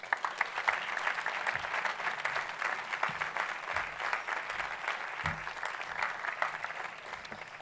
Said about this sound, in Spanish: Le pido un aplauso para darle la bienvenida